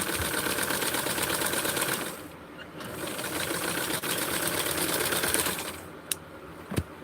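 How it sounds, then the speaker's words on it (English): A serger stitches fabric with a steady, rapid mechanical whir that runs almost continuously, easing briefly around two seconds before resuming, with a couple of sharp clicks near the end. "Because I have the serger here, it makes it so easy to just to go ahead and do that."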